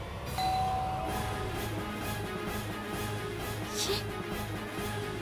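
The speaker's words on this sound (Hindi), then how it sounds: "सच में घंटी बज रही है।" A bell rings repeatedly in a steady rhythm, each strike bright and ringing out over a soft background hum.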